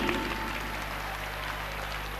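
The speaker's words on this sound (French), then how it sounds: "On l'applaudit." Dense, steady applause from an audience in Bamako greets a school director, Madame Traoré Nama Berté, at a children's competition; the clapping stays fairly loud and even throughout, with no voices standing out.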